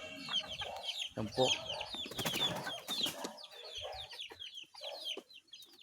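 Pet chicks just vaccinated, clucking and peeping close by in a lively, continuous chatter with sharp chirps throughout, while a person talks briefly over them.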